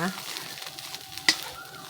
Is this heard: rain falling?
no